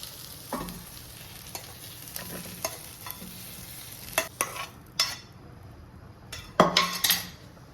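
Scraping and clinking of a utensil against a pan as cooked vegetables are moved into a bowl, several distinct scrapes with a soft sizzle underneath.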